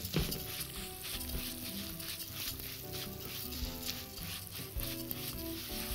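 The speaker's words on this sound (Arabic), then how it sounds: "تقليب مستمر مستمر مستمر عشان ما الاقيش في الاخر شويه لسان عصفور فاتحين وشويه غامقين" Lisan asfour pasta frying and sizzling in a pan while being stirred continuously, a steady crackling sizzle with soft scraping of the spoon, fairly quiet.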